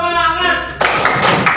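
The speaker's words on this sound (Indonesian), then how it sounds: "Ayo, silakan tepuk semangat." A class of participants performs a rhythmic spirit clap: after a spoken prompt, a burst of quick group clapping starts and runs to the end, close and fairly loud.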